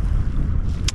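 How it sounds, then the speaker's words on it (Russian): Steady, loud wind buffeting with low rumbling noise throughout, over an open lake in a storm, with a brief hiss near the end. "Вот, ветер сумасшедший."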